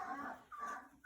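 Five-week-old puppies whimper and yip close by in short, high, whiny cries, a couple of quick squeals running into one another with no talking over them.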